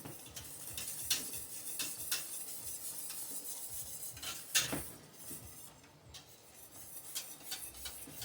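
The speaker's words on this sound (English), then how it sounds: "I'm gonna be adding my pectin and whisk it until it's all dissolved." A whisk stirs pectin into wild grape juice for jelly, making soft, uneven clinks and scrapes against the pot over a faint background, with a louder knock partway through.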